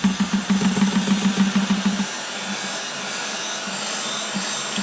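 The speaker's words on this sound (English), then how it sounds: "Just going to apply some gentle heat, so apologies for the noise." A heat gun warms a motorcycle surface before vinyl wrapping on a Yamaha XV950 Bolt build, starting with a loud pulsing motor whine that drops after two seconds to a steady airy blowing hiss, close and alone.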